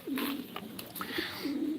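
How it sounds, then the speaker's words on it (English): Pigeons or doves coo nearby, with low throaty calls at the start and again toward the end over a hissy background, plus a few soft clicks in between. "Yeah, the birds are really cool."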